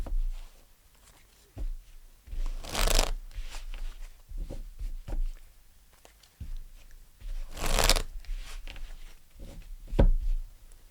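Tarot cards being shuffled in bursts of crisp riffling and soft flicks, with two louder broadband shuffles standing out among quieter slaps and pats, close and without talk.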